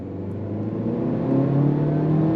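A 2023 Honda Civic hatchback, front-wheel drive, pulls away hard on throttle after a stop, its engine note climbing steadily in pitch and growing louder over a couple of seconds of close, continuous revving.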